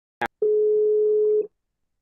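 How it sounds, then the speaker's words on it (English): A telephone call rings out as a single steady electronic tone lasting about one second, preceded by a brief click, with silence afterward and no talk. "It's ringing now."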